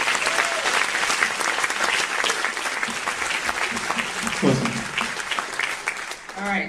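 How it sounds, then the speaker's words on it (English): An audience at a live conversation event applauds loudly and steadily, a dense wash of many hands clapping that holds for several seconds and begins to thin at the end, with a voice briefly heard over it. "So can we have a huge round of applause?"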